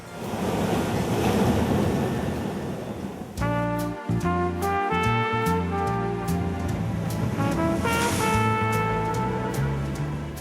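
Sea waves and surf break close by on the coast at Pondicherry, throwing spray in a loud, rushing wash with wind noise, then continuing beneath music.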